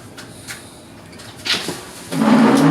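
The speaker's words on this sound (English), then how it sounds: "Let me open up the back door." A house's back door is unlatched and opened, with a couple of light clicks, a sharper thud of the latch, and then a louder scraping swing of the door, nearby and without speech.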